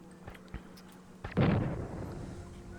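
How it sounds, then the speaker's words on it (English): Gunfire aimed at a defensive turret in the strategy game Evil Genius: a faint tap or two, then a loud burst of overlapping shots and a boomy impact around mid-clip, decaying into a rumbling tail with game ambience underneath. "she's shooting at a turret"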